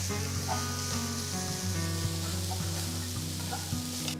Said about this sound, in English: Saute the onions for about 2 to 3 minutes.